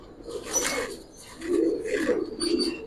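Big-sized army pattern pigeons cooing close by in two soft, rounded phrases, with a quiet pause between them.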